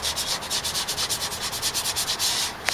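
Rhythmic back-and-forth sanding strokes rasp against wood, about five per second, close and steady.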